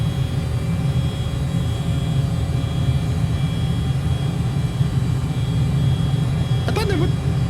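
A steady, droning engine roar from an airplane on its takeoff run in Microsoft Flight Simulator, loud and constant throughout with a deep rumbling hum, and a brief high chirp near the end.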